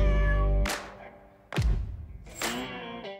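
A cat meows loudly and close, three or four drawn-out, harmonic cries in quick succession with short gaps between them, heard alone with no talking.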